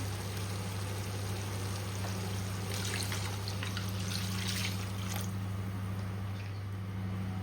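Water is poured in a steady, continuous trickle while a Punjabi-style mutton kunna is prepared in a clay pot, with a faint constant hum underneath.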